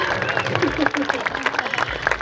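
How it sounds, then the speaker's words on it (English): Audience clapping at an outdoor raptor flying demonstration, a steady patter of many hands lasting the whole moment, mixed with voices. "Let's give her a great big round of applause."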